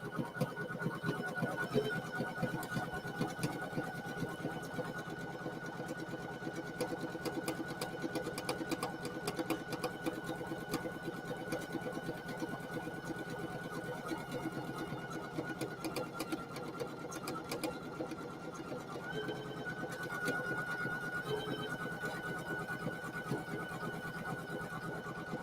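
A Poolin EOC06 single-needle embroidery machine stitching continuously, a fast steady mechanical rattle with a constant whine, close and fairly loud with no talking over it.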